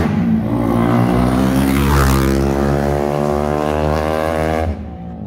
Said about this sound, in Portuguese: a moto, a motinha grita, hein, mano